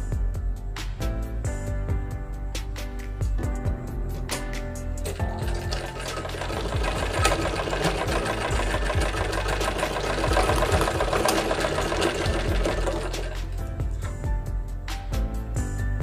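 A sewing machine stitches a fabric strip for a blouse waistband or neckline, running in short bursts at first and then in a long continuous whirring run before stopping and starting again, close and clear with no talk.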